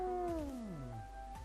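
A kitten in the video game Dofus gives a single clear, fairly close meow that falls in pitch and trails off, with low background game ambience and no talking.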